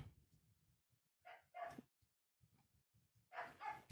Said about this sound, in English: Somebody's dog. He's being loud.